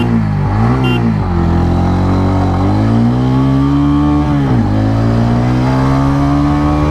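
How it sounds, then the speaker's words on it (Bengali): A 2024 TVS Ronin 225 motorcycle accelerates hard through the gears in a loud, close engine drone, its pitch rising, dipping briefly at each shift and then climbing again. "তাহলে এর অ্যাক্সেলারেশনটা টেস্ট করি"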